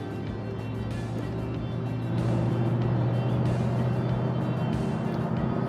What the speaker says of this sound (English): the car is just so smooth and confident cutting through traffic